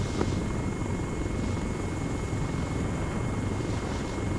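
Helicopter in a military video game flying toward a helipad on an oil rig hostage rescue, a constant loud rotor and engine drone with no pauses.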